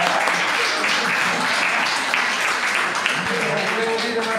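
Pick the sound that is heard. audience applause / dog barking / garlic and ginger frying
audience applause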